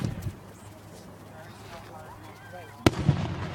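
A single sharp firework bang near the end, followed by a smaller pop, on a lake shore, with quiet murmuring voices and outdoor background before it.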